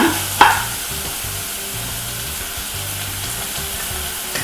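Chorizo and beef frying in hot oil in a pan, a steady close sizzle opening with a sharp hiss as the meat drops in, continuing evenly with faint stirring.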